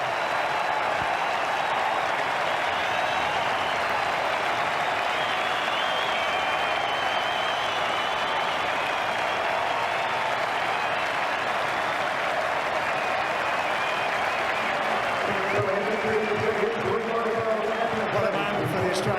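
Huge cricket crowd roaring and applauding in Adelaide as Australia seal an Ashes Test win on day five, a sustained loud wall of cheering and clapping throughout, with a voice and crowd shouts rising near the end.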